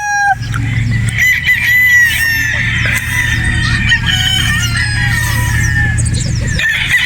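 On a Batangas game farm, chickens cluck and call in a busy, overlapping chorus over a steady low hum, with repeated crowing and higher calls throughout.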